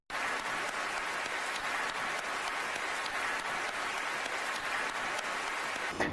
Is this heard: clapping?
yes